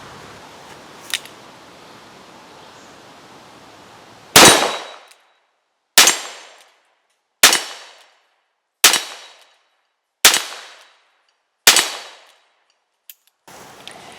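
A 5-inch Ruger GP100 .357 Magnum revolver firing Keith semi-wadcutter loads: six loud, sharp shots at roughly one-and-a-half-second intervals, each ringing off briefly, with no voices.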